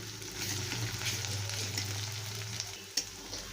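Ginger-garlic paste frying with browned onions in a pan for potol dorma: a soft, constant sizzle with light stirring and one sharp utensil clack near the end, no voices.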